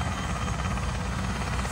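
A helicopter's rotor thumps in a steady, dense drone that holds level throughout, loud and close, with no voices.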